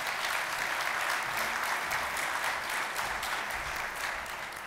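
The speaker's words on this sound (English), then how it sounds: "let's give a round of applause for Chop Chop" Audience applause at a startup awards final, a continuous, full wash of many people clapping, steady and fairly loud, easing slightly toward the end with a faint low murmur beneath.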